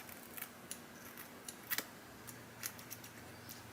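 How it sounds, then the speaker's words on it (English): Quiet, crisp snips of sharpened shears cutting wet tissue, a few short clicks spread across a few seconds, close and isolated with no talk. "This one did not cut the wet tissue, but if it cuts hair, it's passing"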